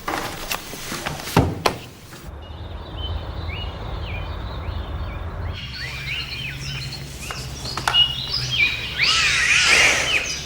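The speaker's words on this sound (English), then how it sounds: "they're all just full of bird calls" Bird calls and chirps from a tape recording of wild birds, repeated tweeting phrases over a low hum, with a denser burst of calls near the end.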